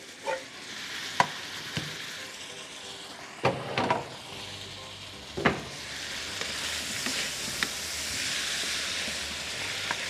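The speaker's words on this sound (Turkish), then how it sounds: "Şöyle bir soğan ve tavuğumuzu ilave ediyoruz. Beraber kavurmaya başlıyoruz." Chicken, mushroom and onion sautéing in a small pot, a steady soft sizzle throughout with several sharp clacks of a utensil stirring and scraping against the pot, close and alone without talk.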